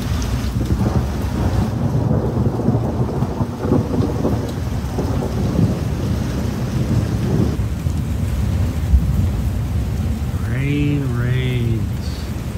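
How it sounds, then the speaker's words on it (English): Steady rain hisses throughout with low rumbling thunder underneath, and a bird chirps briefly near the end. "It's raining. It's thundering."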